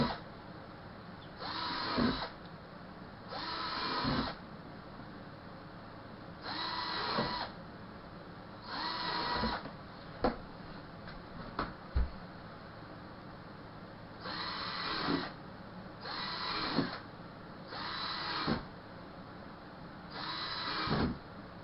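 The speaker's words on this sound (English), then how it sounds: "I'm going to drill the new sets of holes." A power drill bores holes into a plastic tote in repeated short bursts of whining motor sound, about eight in all, separated by quiet pauses with a few small clicks and knocks.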